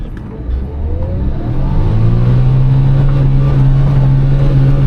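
A Suzuki Jimny JB23W engine revs hard off-road in second gear low range as the clutch is dumped, the loud droning note climbing and then holding steady near the rev limiter.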